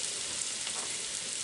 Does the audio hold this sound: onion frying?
yes